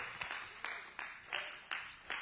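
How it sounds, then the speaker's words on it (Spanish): Church congregation clapping in a slow, even rhythm during worship, about five or six crisp group claps, fairly quiet and with no talking. "¿Cuántos le dan palmas de ofrendas al Señor Todopoderoso?"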